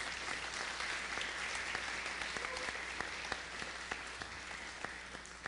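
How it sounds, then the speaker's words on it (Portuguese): A church congregation claps together in steady applause for Jesus during a discipleship class, a dense, continuous patter of hands that stays even and moderately loud throughout. "vamos bater uma salva de palmas para Jesus"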